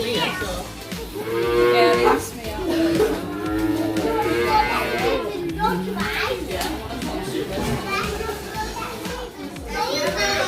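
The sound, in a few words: cows mooing at a farm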